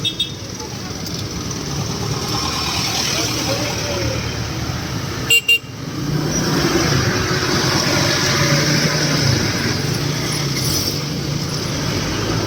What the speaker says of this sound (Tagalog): Traffic dito sa plaza, guys.